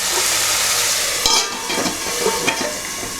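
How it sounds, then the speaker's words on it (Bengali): Onions sizzle loudly in a pan as they brown for chicken curry, a dense hiss broken by several scraping stirs and clatters of a utensil, close up with no talking. "2 মিনিট এটাকে ব্রাউন করে ভাজার জন্য সময় দেব।"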